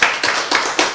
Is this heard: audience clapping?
yes